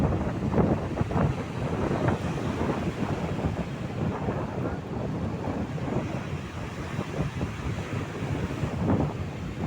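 Strong wind roars steadily at a sea coast where high winds keep fishing boats ashore, buffeting the microphone with continuous gusts over crashing surf, with no speech.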